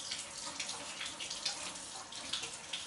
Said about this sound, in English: I'm going to put the water on warm